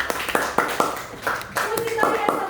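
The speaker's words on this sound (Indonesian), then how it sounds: "Tepuk tangan dulu." Schoolchildren in a fifth-grade classroom clapping their hands, a run of sharp, fairly close claps in an uneven rhythm with a voice talking over them.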